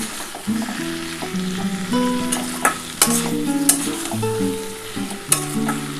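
Potatoes and pointed gourd cook down in a pan with chili and Kashmiri chili powder, sizzling steadily while a spatula stirs them with scraping and several sharp clanks against the pan, soft music underneath.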